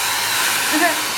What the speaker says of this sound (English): I'm just going to very quickly make a noise with my hair dryer